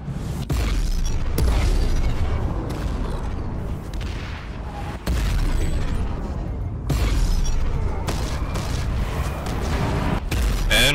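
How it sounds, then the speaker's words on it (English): Bombardment in PlanetSide 2 by Liberator gunships, a Galaxy and Colossus tanks around a Bastion: loud booming explosions and crashes rumbling heavily and almost without pause, with sharp blasts standing out every few seconds. "And we're getting bombarded now."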